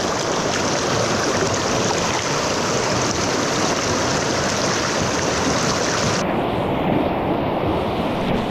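Fast, turbulent river water rushing strongly past, a loud continuous broadband roar of flow and splashing that stays steady throughout, with no voices.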